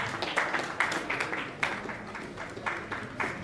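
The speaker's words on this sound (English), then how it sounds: "Please put your hands together for her as she comes forward" Conference audience applauding as a presenter comes forward at a stakeholder policy dialogue, a steady patter of hand clapping with an announcer's voice over it.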